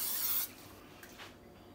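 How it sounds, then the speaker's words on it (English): A short, close hiss of non-stick spray butter from an aerosol can is sprayed onto a whole chicken before smoking, followed by quiet handling sounds. "I'm gonna spray with a binder. This is just spray butter,"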